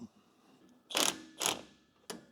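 Loosening a bolt on a QA5 reel mower gives three short metallic ratcheting bursts, two close together and a briefer one after a pause, close by and alone.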